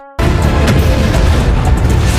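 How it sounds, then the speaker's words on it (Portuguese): A sudden, loud explosion from an anime fireball attack bursts in and keeps roaring as a dense, rumbling blast that fills the whole moment without fading. "O feiticeiro já manda jutsu bola de fogo de novo, causando uma grande explosão."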